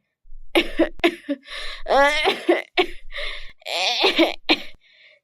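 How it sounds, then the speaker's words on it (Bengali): A cartoon old woman's run of throaty, close coughs in uneven bursts, some with a strained, voiced rasp. "তখনই ঘর থেকে কাশির আওয়াজ শুনতে পায়"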